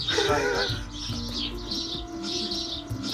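Pigeons coo inside a traditional Iranian pigeon tower, its walls full of nesting holes, giving soft repeated calls in rhythmic bursts with a faint room echo and some light chirps.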